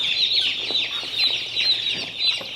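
Young chicks peep and cluck continuously in rapid overlapping chirps while being unloaded and moved into brooders on a farm, close and lively with no talk.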